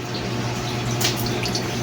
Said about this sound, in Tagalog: Lagay tayo tubig.